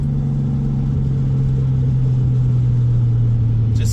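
A 1973 Datsun 240Z engine cruises steadily at 2,000 RPM in fifth gear, a low, even drone with a smooth rumble holding constant throughout, with no voices over it.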